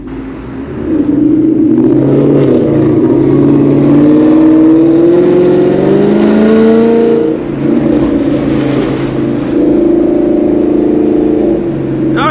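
Ford Mustang GT S550 with catless headers running E85 roars loudly as it drives on a highway, its deep exhaust rumble swelling under acceleration with a brief dip in throttle midway before pulling hard again.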